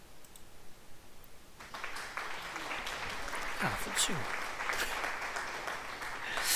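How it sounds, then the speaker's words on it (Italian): Applause plays in a truck driving game featuring an Iveco Turbostar, a bright burst of clapping that swells in after a quiet start over low background noise, with a voice speaking briefly at the opening. "applausi."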